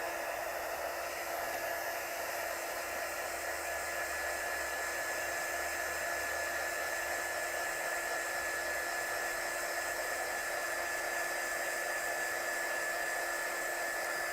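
A heat tool blows over a watercolour card in a craft studio, giving a constant airy whoosh that stays even and uninterrupted for the whole stretch, with no talking.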